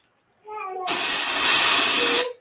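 An airbrush blows leftover paint from its cup into a spray-out pot, giving a loud, steady hiss that lasts under two seconds and then cuts off abruptly, after a brief tonal sound.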